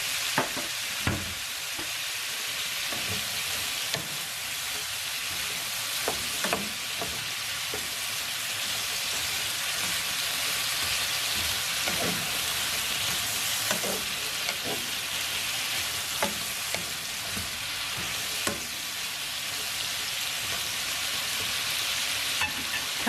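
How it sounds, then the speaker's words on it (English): Green beans, pork belly and shimeji mushrooms stir-frying in a pan, a steady close sizzle with intermittent clatters and scrapes as the food is tossed and moved around, with no voices. "Move the vegetables around so that they can get evenly cooked."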